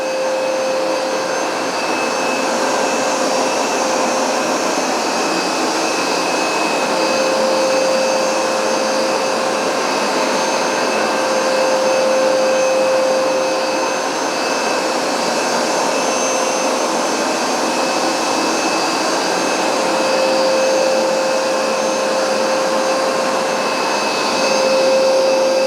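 A Hoover SmartWash Pet carpet cleaner runs continuously with a loud, steady motor whine and airflow roar and a sustained high tone, unchanging throughout with no talking.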